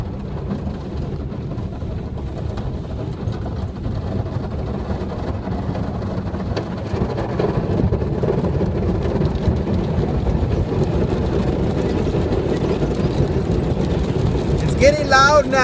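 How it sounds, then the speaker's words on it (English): Automatic car wash brushes scrubbing over a car from inside, a dense rumbling swish that grows louder partway through, with people talking. "If you guys are hearing that noise, that is whatever it is, those things that wipe it off."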